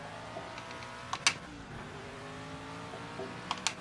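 A race car engine in the PMR racing game drones faintly and steadily at low volume, with a few short bright bursts rising above the hum.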